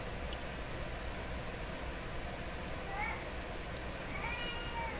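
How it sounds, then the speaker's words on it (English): A pet cat meows twice, faint and plaintive, about a second apart, half buried under a steady loud hiss from a large old vacuum-tube radio. "Oh, listen to my poor cat."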